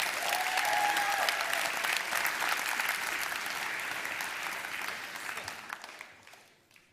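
An audience at a film festival awards ceremony applauds warmly as the jury takes the stage, a full, steady roar of clapping that slowly thins and fades out at the end.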